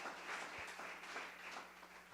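Church congregation applauding at a Sunday service, a soft, fairly distant patter of many hands clapping steadily throughout, with no voices standing out.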